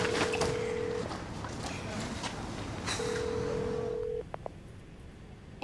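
Telephone keypad tones sound in two long steady beeps separated by a pause, then a few short tap clicks, with background noise and a faint voice.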